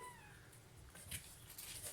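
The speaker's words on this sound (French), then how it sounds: "Là, il y a Nounours qui miaule." A cat meows faintly a couple of times against steady background noise, with no talking.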